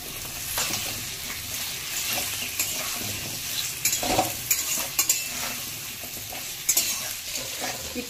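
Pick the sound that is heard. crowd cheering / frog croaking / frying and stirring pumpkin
frying and stirring pumpkin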